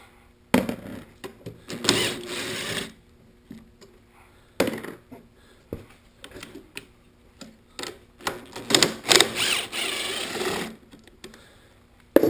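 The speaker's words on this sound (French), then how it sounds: "On enlève les deux vis et terminales." Unscrewing the battery terminal screws while taking apart a chain-case: several bursts of buzzing power-driver whirring, each lasting a second or two, separated by small clicks and handling taps, close and fairly loud.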